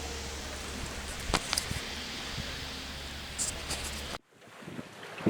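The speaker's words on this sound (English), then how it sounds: "We have some decent wind." Wind rushes against the microphone while sailing a boat wing on wing on the Oakland Estuary, a loud, steady roar with gusty bumps and water wash that drops off abruptly near the end.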